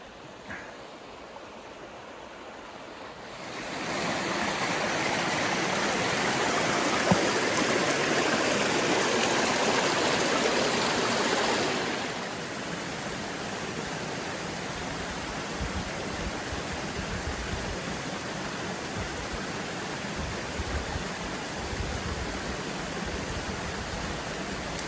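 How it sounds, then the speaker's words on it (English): Red Moshannon River flowing right beside a forest hiking trail, a steady broadband rush of moving water that swells louder for several seconds midway, then settles back to a constant, close wash with no voices. "So this is the Red Moshannon River, and the trail runs right alongside it for a little bit."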